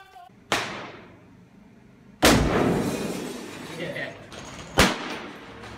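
Three loud, sharp gunshots from police live-ammunition training inside an elementary school slated for demolition, each cracking and echoing through the building, spaced a couple of seconds apart.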